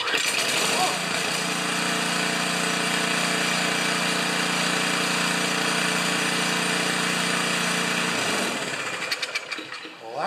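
Small gas engine on a Plugr lawn aerator running steadily after a pull start, a loud continuous rattling drone with strong harmonics that holds for about eight seconds, then sputters and dies.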